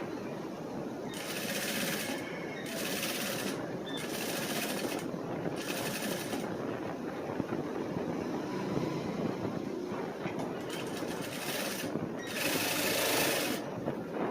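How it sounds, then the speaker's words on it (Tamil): A sewing machine stitches the front neck of a cross-cut blouse in several steady bursts of whirring, each run lasting a second or two, with short pauses between them, close and unaccompanied by talk. "இப்போ நம்ம ரவுண்ட் ஃபுல்லாக ஃப்ரண்ட் கழுத்து நம்ம தைச்சாச்சு"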